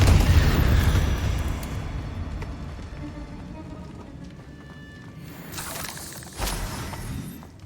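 A Confringo blasting spell in Hogwarts Legacy goes off with a loud booming burst and shattering debris, the rumble decaying over several seconds before a second crackling impact.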